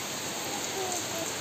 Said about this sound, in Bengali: সকাল থেকেই হচ্ছে ঝমঝমিয়ে বৃষ্টি